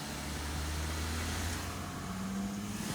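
A 2018 Jeep Wrangler JLU Rubicon engine holds a steady low rumble while brake boosting, with a slight rise in pitch near the end, continuous and close with no talk.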